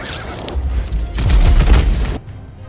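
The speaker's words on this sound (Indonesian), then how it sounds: "King pun menembaknya" A film scene in which Dr. King shoots an escaping fugitive, heard as loud, booming gunfire with a heavy low-end burst and rumbling aftermath, then a sudden cut to quiet.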